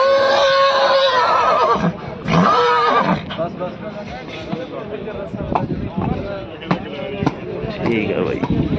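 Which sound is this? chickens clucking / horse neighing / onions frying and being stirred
horse neighing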